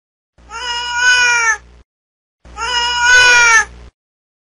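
A cat meows twice, each call long and drawn out, loud and close, with a short silence between them and no other sound.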